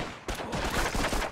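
A rapid, close burst of machine gun fire from the PS2 game Call of Duty 2: Big Red One, with rattling shots pulsing in quick succession over a short span.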